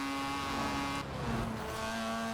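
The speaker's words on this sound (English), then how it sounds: "Just revving almost to red line. That's what makes it sound so sick." A Mazda Cosmo rotary engine in Forza Horizon 4 held at high revs near redline, a steady, buzzing drone that strains near its limit with a slight dip and surge midway, in a tunnel.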